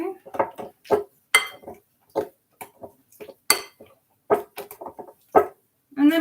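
Banana bread ingredients being mixed in a bowl, with banana chunks still in the batter: a series of close, irregular clinks and scrapes of a utensil against the bowl, separated by brief pauses.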